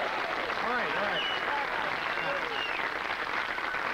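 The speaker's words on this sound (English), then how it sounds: "I know this applause is for Anna Devane, who stands here beside me." Applause for Anna Devane at a 1986 gathering, a dense steady wash of clapping with a voice talking over it, held at an even level throughout.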